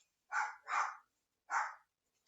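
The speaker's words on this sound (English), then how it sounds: "The doggies are barking." Three muffled barks from dogs, two in quick succession and then one more after a pause, faint and distant against silence, with no talking.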